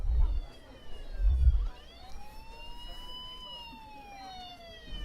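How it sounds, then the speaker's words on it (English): A toy police siren wails with rising and falling tones inside a store, moderately loud over low rumbling background noise, with a few low thumps at the start. "Don't worry, it's not a real siren."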